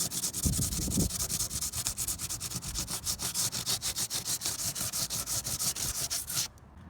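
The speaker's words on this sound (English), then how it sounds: "Alright, so now that's kind of sanded down." Hand sanding on a BMW E36 car body panel, a steady rhythmic scrubbing of abrasive strokes, close and fairly loud, repeating evenly before stopping abruptly near the end.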